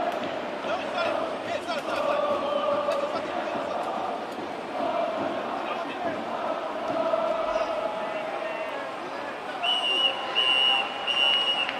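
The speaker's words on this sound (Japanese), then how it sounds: "ここでホイッスル" A referee's whistle stops play during a Japanese American football game between Club Bears and Osaka Police Seals, a couple of bright sustained blasts late in the clip over steady crowd noise and a commentator.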